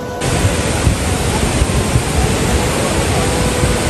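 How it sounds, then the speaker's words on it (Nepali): Markhu waterfall, also called Mohini Jharna, with water crashing down in a loud continuous roar. The rumble is dense and unbroken, with no speech over it. "टक्क लगाएर पानी झर्दैछ यार"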